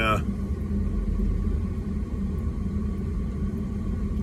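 A car engine rumbles steadily while driving, a continuous low drone heard from inside the vehicle with no breaks.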